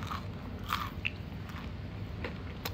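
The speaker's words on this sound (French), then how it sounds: "Je sais pas si vous entendez le croustillant." Crisp crunching bites of fried chicken chewed close to the mouth, a few sharp crackling crunches over steady chewing, with no talking.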